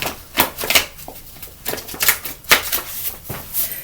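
A deck of tarot cards is split and riffled, giving a run of crisp, papery flutters and slaps at close range, several quick bursts with brief pauses between them.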